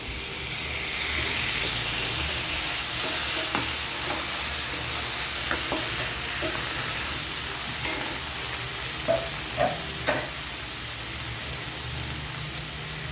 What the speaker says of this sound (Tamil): இப்போ இஞ்சி பூண்டு பேஸ்ட் வந்து ஃப்ரை ஆகிடுச்சு. நம்ம வந்து டொமேட்டோ ஆட் பண்ணிப்போம்.